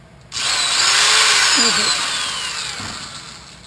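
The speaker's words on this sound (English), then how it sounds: "It turns. I got a wire brush in it." A rotating wire brush mounted on a Craftsman workbench tool starts up suddenly and whirs loudly and close, a bright steady grinding whine that slowly eases off, with a voice speaking briefly over it.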